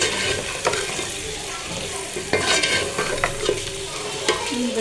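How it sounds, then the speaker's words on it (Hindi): Onions fry in a pan ahead of chicken liver, a dense close sizzle broken by repeated sharp scrapes and taps of a spatula stirring against the pan. "ये देखो ये अच्छी तरह से फ्राई हो रहा है"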